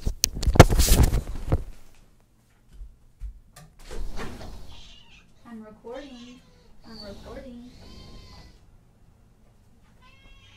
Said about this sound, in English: this cat wants to come in